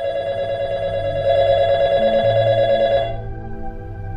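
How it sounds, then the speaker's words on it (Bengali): A telephone rings for an incoming call in an audio drama, a loud, steady electronic ring tone sounding for about three seconds before cutting off, leaving a quieter tonal bed under it. "কিছুক্ষণ পর সন্দীপের ফোন এলো।"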